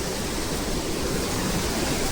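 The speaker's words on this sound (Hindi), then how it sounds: "काफ़ी तेज़ पानी चल रहा है यहाँ पर, काफ़ी तेज़ धार है" Fast-flowing water rushes past Lalpur Dam in Rampur, a dense, steady roar that fills the whole clip without pause.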